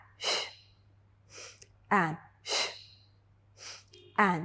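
Audible breathing in and out during a hip mobility exercise, several close breaths alternating with brief spoken cues, at a steady paced rhythm.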